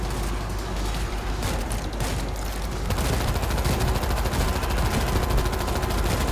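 Rapid, dense gunfire from the World War Z video game, with continuous automatic bursts and overlapping shots forming a loud, steady barrage for the whole clip.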